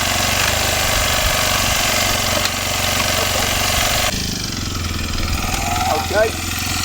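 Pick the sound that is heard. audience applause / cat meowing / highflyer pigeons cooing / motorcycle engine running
motorcycle engine running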